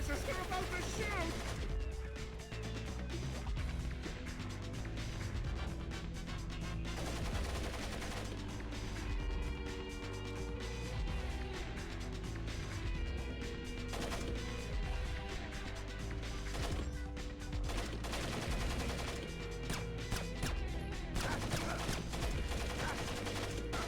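Gunfire in a Splinter Cell game crackles in repeated bursts and single shots throughout, mixed with game noise and spoken voices, moderately loud and irregular in rhythm.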